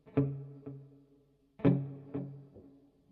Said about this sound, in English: Quite a lot of reverb.